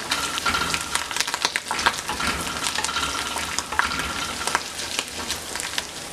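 Tempering ingredients for curd rice fry in hot oil in a pan, a continuous loud crackling sizzle with scattered sharper pops and occasional stirring, with no voices.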